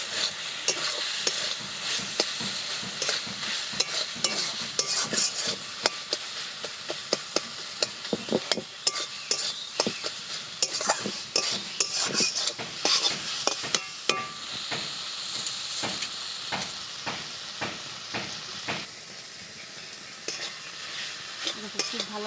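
A potol mixture being stirred and fried in a pan, with rapid, irregular scraping and clacking of a spatula over a soft, constant sizzle, close by and with no speech.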